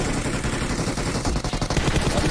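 Sustained LMG machine gun fire from PUBG Mobile, a loud, dense, continuous stream of rapid shots lasting a couple of seconds with no pauses and no voices.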